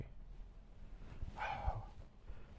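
A worried dog in a car, stopped at an EV charging station, gives a short whining bark in the middle of the clip over low cabin rumble.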